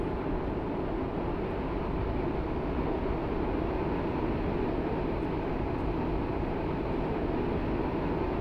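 Class 730 train in the Roblox game SCR arriving at Benton on the WaterLine, a steady, loud, continuous rumbling drone of the train in motion with no voices.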